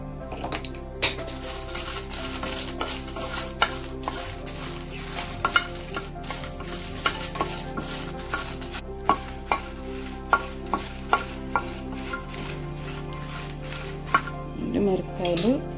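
Red chillies fry in hot oil in a pan, a soft continuous sizzle under repeated sharp clicks and scrapes of a spoon against the pan, with a faint hum and a brief rustle at the end.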